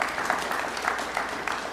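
A short burst of steady applause from the crowd at a City of Little Rock press conference, greeting the City Manager, fairly even with no voices over it.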